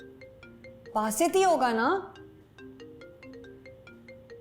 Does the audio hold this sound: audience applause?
no